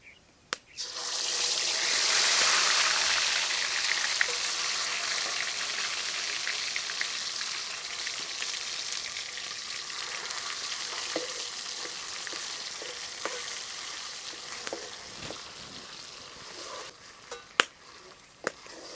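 Cumin and spice balls dropped into hot oil in a pan burst into a loud bright sizzle that gradually settles into a softer steady frying, with occasional clinks and scrapes of stirring.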